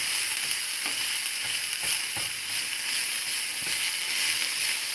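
Ground meat fries and browns in a pan, a steady broadband sizzle with occasional sharp crackles and the clink of a utensil breaking it up, fairly close and loud with no talking.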